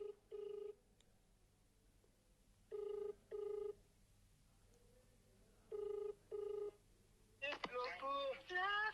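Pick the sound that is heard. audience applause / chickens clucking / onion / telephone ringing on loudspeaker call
telephone ringing on loudspeaker call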